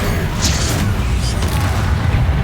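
In Hogwarts Legacy, a Confringo fire spell explodes as a deep, rumbling boom that fills the short moment, with crackling bursts on top, loud and close.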